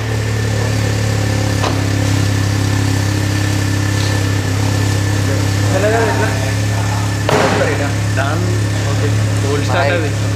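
A VW Polo 1.0 TSI Highline Plus idles steadily through an aftermarket exhaust, a constant low drone running throughout at close range, with people talking briefly over it.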